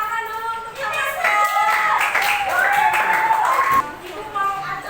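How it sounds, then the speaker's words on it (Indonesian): A classroom of children applauds a classmate named Yamasa, a burst of scattered hand claps under loud overlapping children's voices and a teacher talking. "tepuk tangan dulu untuk Yamasa"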